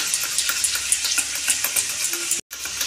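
Sliced onions frying in oil in a pan for a Bengali doi katla (yogurt fish curry), with a steady bright sizzle and repeated scraping strokes of a spatula. A brief silent gap comes near the end.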